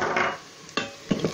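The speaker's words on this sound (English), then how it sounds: "Give that a stir." Onions frying in a pot with salt are stirred, giving close scraping swishes and soft knocks of the utensil against the pot over a light sizzle, with a couple of brief stirring strokes in quick succession.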